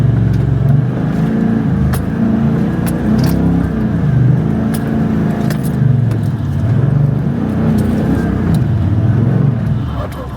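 A Toyota Land Cruiser 79 Series engine climbs off-road in low-range third gear, droning loud and steady with rising and falling revs, while loose items rattle and click in the cabin.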